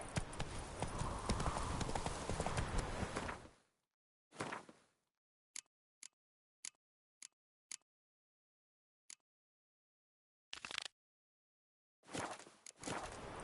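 The horse Roach walking in Witcher 3, a few seconds of continuous hoof clip-clop, then a sparse run of single sharp hoof taps spaced apart, ending in short bursts of movement.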